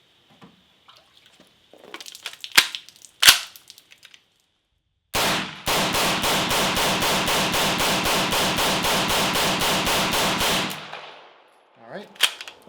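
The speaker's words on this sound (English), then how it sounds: "pull it straight out, throw it in, and send the rounds down range" An MP5 submachine gun firing 20 rounds from a dirt-covered KCI magazine, a fast evenly spaced burst of loud sharp reports lasting about five seconds, preceded by magazine clatter and handling clicks.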